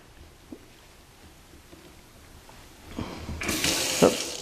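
Water from a kitchen faucet with a reinstalled aerator starts after a quiet stretch, a close smooth steady stream that swells to a loud hiss and runs on to the end.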